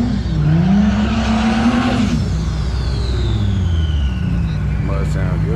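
A boosted Chevrolet SS rumbles and revs loudly at a Texas drag strip during a street car takeover, its engine pitch rising and falling steadily with crowd and vehicle noise around it.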